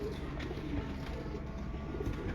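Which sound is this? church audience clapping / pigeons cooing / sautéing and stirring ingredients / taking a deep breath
pigeons cooing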